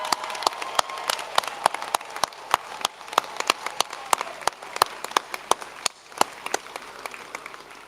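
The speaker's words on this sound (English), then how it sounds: "Give them a huge cheer and a round of applause." Audience at a university graduation ceremony applauding, a steady wash of many hands clapping with sharp individual claps standing out throughout, moderately loud and continuous with no talk.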